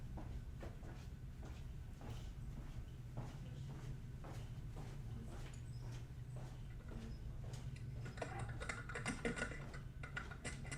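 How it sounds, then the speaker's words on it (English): Loud computer keyboard typing during a board game demo, with steady rapid keystrokes clacking throughout and a busier burst near the end over a constant low room hum. "Man, my keyboard is loud on this thing."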